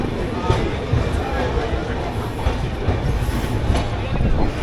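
The 12303 Poorva Express runs with a constant rumble and rattle heard from inside its crowded general coach, with rhythmic wheel clatter and a background babble of passengers' voices.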